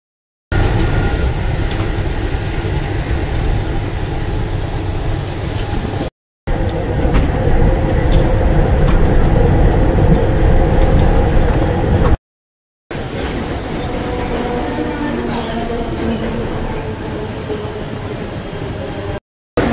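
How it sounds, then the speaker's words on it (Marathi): Riding a Mumbai local train toward Sandhurst Road, a constant loud rumble of wheels and carriage noise, broken by a couple of brief gaps. "चला, ह्या ट्रेनने जाऊया आपण।"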